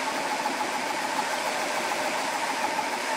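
GX CS4 air compressor running steadily while filling an air rifle to 100 bar, a continuous loud, dense mechanical drone with no breaks.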